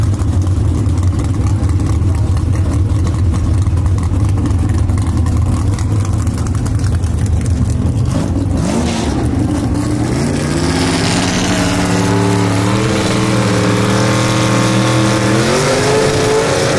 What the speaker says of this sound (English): Colby Welch takes it down the racetrack